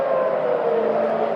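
An air raid siren wails over Tel Aviv during an Iranian missile attack, a steady sustained tone held at a constant loud level across the whole stretch with no talk over it.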